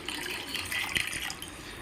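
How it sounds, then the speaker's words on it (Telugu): Water trickles from a tap into a pot of raw mango pulusu, a soft, close splashing stream with a small drip near the middle, heard alone. "అలానే పులుపుకి సరిపడా వాటర్ అయితే వేసుకోవాలండి."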